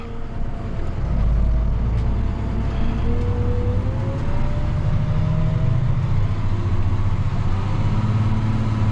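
A tractor engine drones loudly and steadily while driving across a field during chiseling and ripping, with a constant low rumble and a slowly shifting whine throughout.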